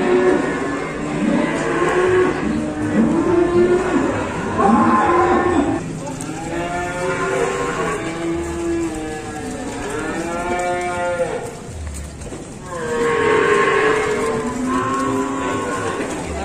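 Cattle at the Pon Ambarawa livestock market moo loudly and repeatedly, long drawn-out bellows from several animals close by, one following another with crowd murmur underneath.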